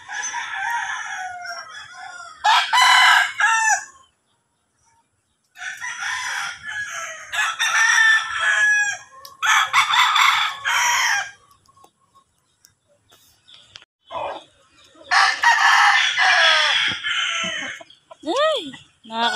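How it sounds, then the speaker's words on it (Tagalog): Several roosters crowing in turn in a wooded rural yard, long rising calls separated by short pauses, fairly close and loud, with some clucking chickens between crows. "Ang gaganda ng mga manok."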